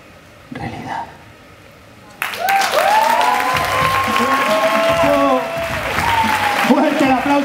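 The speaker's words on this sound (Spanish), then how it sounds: "¡Fuerte el aplauso para Salva Sule!" After a quiet stretch with a brief murmur, a poetry slam audience in Barcelona bursts into loud applause mixed with cheers and excited voices, sustained to the end.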